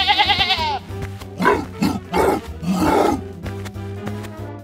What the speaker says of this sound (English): Hey, goat!